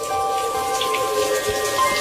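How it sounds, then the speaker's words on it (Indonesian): A radio horror drama sound effect of heavy wind-driven rain gives a steady, dense hiss with scattered drops, holding at a constant level throughout. "siang itu hujan turun sangat deras. Hujan angin."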